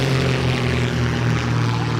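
Fast retractable-gear airplane passing over a STOL competition airfield in Gallatin, Tennessee: a steady loud propeller-engine drone with a strong low hum, close and continuous, no talking.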